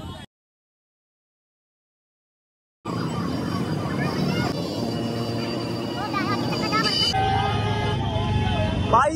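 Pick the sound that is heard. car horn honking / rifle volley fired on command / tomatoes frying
car horn honking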